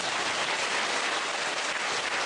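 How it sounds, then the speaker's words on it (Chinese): An audience at a gathering bursts into dense, sustained applause, a steady wash of clapping that stays loud and even throughout. No one speaks. "鼓掌。"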